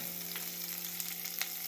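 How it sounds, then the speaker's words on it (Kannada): Chillies and curry leaves fry in a pan for mixed rava idli, a soft steady sizzle with a low hum beneath and a few faint stirring clicks. "ಈಗ ಸ್ವಲ್ಪ ಫ್ರೈ ಮಾಡ್ಕೊಳ್ಳೋಣ."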